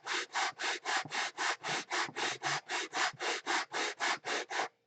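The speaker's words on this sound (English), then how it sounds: "180 grit sandpaper on a block." Block sanding with 180 grit sandpaper, a steady run of about eighteen even back-and-forth rasping strokes, close and regular, with no talk.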